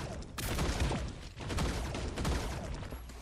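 Gunfire in the video game T3 Arena bursts in a couple of loud volleys, with a sharp crack near the start and rumbling blasts layered under the noise.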